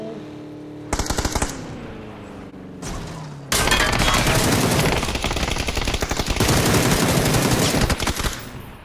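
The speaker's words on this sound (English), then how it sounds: "Shoot AR, shoot AR. Shoot his tires out." Sustained automatic assault rifle fire in the video game PUBG, loud rapid bursts starting with short volleys and then a long continuous stream of shots, with no talking over it.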